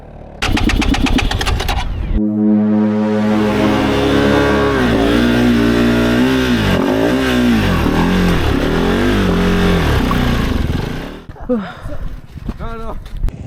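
Motorcycle engine revving hard and steadily while bogged down in a salt lake in Mangystau, Kazakhstan, the pitch rising and falling in repeated surges for about nine seconds before cutting off, with voices afterward.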